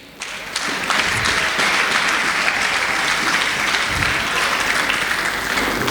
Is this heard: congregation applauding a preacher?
yes